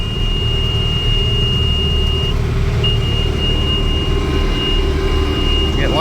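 An IH 3588 tractor engine running while the tractor backs up in a field, a loud, steady low rumble with a thin high-pitched whine held above it throughout.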